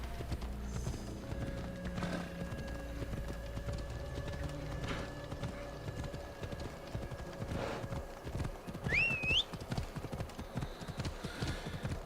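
A horse in the video game Assassin's Creed Odyssey gallops, hooves clip-clopping rapidly in a steady rhythm, joined by a short whinny near the end.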